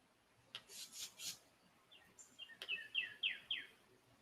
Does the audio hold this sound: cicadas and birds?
yes